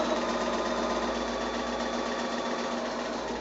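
A sewing machine runs steadily, stitching quilt fabric strips together with a 1/4 inch seam, a continuous fast whirring hum held close and even throughout.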